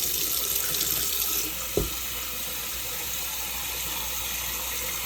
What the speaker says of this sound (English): So hot water going in. We're going to fill up both of our drums.